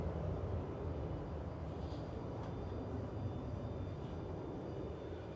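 An airliner landing in a gusty crosswind at Manchester Airport gives a faint, distant, steady engine rumble mixed with wind noise, unbroken from start to finish.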